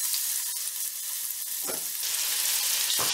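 Onion sautés in hot ghee in a pan, giving a steady, bright hiss of frying. A couple of short stirring scrapes cut through it, and no one speaks.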